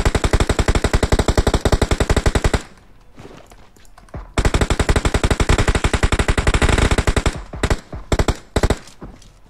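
Rapid automatic gunfire in the mobile battle royale game PUBG Mobile rattles out in long, loud sustained bursts, broken by a brief pause and ending in a few scattered shots.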